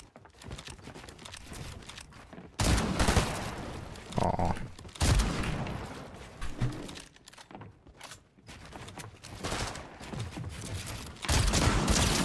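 Shotgun blasts ring out in a Fortnite build-fight duel, several loud, sharp bursts spaced a few seconds apart over quieter clicking and game noise.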